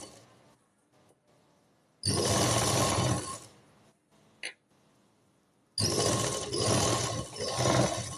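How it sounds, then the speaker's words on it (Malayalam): A sewing machine top-stitches the seam of a nightie frock after a small cut in the fabric, running in two close, loud bursts of steady whirring separated by quiet pauses. "ചെറിയ ഒരു കട്ട് ഇട്ട് കൊടുത്തതിന് ശേഷം മേൽ സ്റ്റിച്ച് കൊടുക്കാം."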